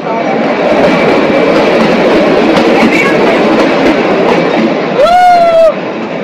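A toy train on the Shimla route in Himachal Pradesh rumbles along in a loud, steady roll, then sounds a brief horn blast near the end.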